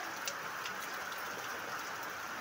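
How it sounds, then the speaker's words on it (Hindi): Heavy rain gives a steady, even hiss of downpour with faint scattered taps, unbroken for the whole short stretch. "बारिश बहुत ज़्यादा हो गया है"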